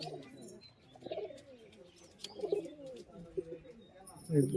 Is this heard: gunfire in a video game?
no